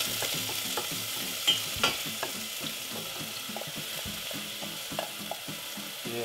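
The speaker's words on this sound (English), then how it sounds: "we're gonna add in those diced onions that we chopped a little earlier. Saute them for a few minutes." Diced onions sauté in oil in a saucepan, a steady broadband sizzle with repeated stirring scrapes and a couple of sharper clatters, close and continuous with no talking.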